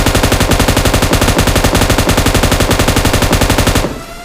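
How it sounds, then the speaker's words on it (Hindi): Sustained rapid machine gun fire in a mobile battle royale shooter, loud and continuous for several seconds before cutting off abruptly into quieter game ambience. "तो मशीन गन में वो 3x देखो कैसे हटता है"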